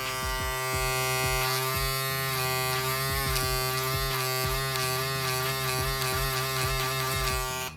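An electric shaver from a VGR combo set with a vector motor runs continuously up close, a steady loud buzzing hum with a rhythmic ticking pulse throughout, no talk.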